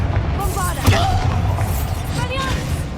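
A Bombarda spell explodes in Hogwarts Legacy inside an abandoned mine: one sharp, booming blast about a second in, over a dense, steady bed of game ambience and voices.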